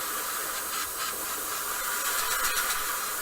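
An airbrush sprays paint onto a 1/24 scale Spitfire Mk.IXc model with a faint, continuous airy hiss that swells in short pulses.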